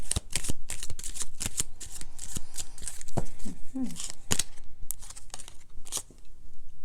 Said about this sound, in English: Let me pull the cards and then I'll bring them together, okay?